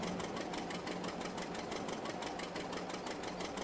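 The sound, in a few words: Hercules engine left running, tractor in a farming video game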